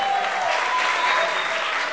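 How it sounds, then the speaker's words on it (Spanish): Crowd at a live Colombian show applauding the family of Germán Castellanos, a steady wash of clapping from many hands throughout, fairly loud and close, with a faint whistle or cheer tone above it. "un aplauso para la familia de Germán Castellanos que está acá"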